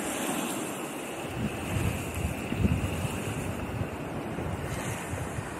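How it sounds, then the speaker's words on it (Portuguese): Waves wash over river water along a rocky, clear-water stretch of a Brazilian river, a steady broadband rush with gentle swells, mixed with wind buffeting the microphone and no voices. "olha as ondas. As ondas das águas"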